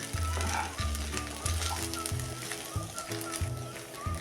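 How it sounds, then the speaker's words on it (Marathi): Cooked rice gently stir-fried with masala in a pan for traditional chitranna spiced rice gives off a steady sizzle with soft stirring, over a low tonal background hum. "भाताचं शीत मोडून न देता असा चांगला हलका परतून घ्या"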